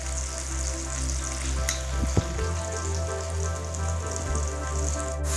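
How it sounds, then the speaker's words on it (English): Mushrooms sautéing in a hot pan, a dense, steady sizzle that holds close and even throughout with a faint low hum beneath and a couple of small clicks, no talking. "we're gonna start with the mushrooms, since those will take the longest to saute"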